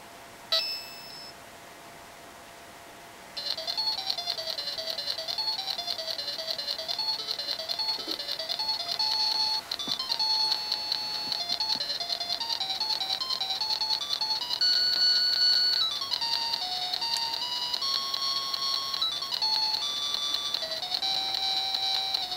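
Electronic chiptune music and steady beeping tones from the Honeybee vertical shoot 'em up on a Quickshot Supervision handheld game console. A bright, continuous looping melody plays alone, with no talking.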